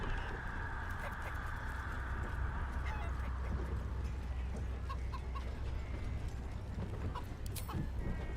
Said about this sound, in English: You just gotta chase the chicken round the course and through the posts.